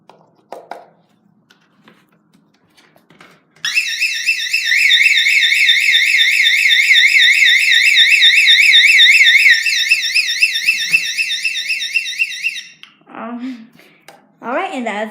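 A Spectral Alert fire alarm sounds on its third tone, a loud, rapidly warbling electronic siren lasting about nine seconds alone, framed by brief talk and handling noises before and after.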